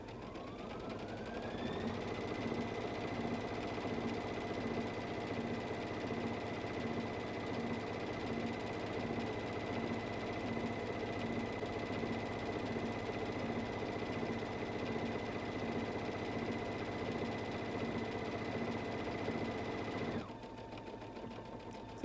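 A Brother Luminaire XP2 sewing machine stitching steadily, a close rapid mechanical whir with a rhythmic needle pulse and a high motor whine that rises at the start, then cuts off near the end as the machine slows and stops.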